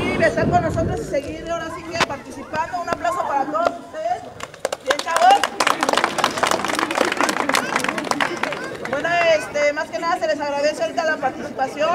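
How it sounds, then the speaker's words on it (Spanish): At an amateur football final between Bayern and Real Estrella on the Cancha La Soledad pitch in San Pablo Chimalhuacán, a crowd claps in scattered bursts that swell in the middle, mixed with chatter and an amplified announcer talking throughout. "Un aplauso para"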